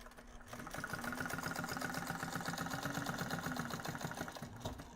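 A sewing machine stitching around a beach bag and its lining runs steadily, giving a fast, even mechanical whirring hum with rapid rhythmic needle clatter, close and continuous throughout.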